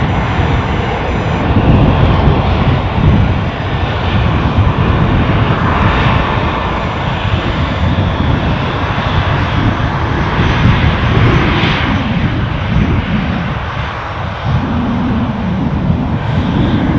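An aircraft departs from Edinburgh airport, its engines producing a loud, continuous close roar that stays heavy and steady throughout with only slight swells.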